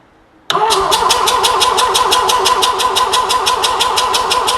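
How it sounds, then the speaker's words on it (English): A rotary engine cranks over steadily during a compression test after a brief quiet start, a fast regular chugging rhythm with a whirring starter motor, loud and close throughout. "I'll now start cranking for the sequence."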